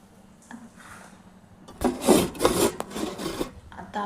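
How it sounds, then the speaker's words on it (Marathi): Sabudana vada mixture made with soaked sago, crushed peanuts, cumin and salt being mixed by hand, giving a few quiet rubs followed by louder squishy rasping strokes, close up and without talk. "आता आपण छान मिक्स करून घेऊया."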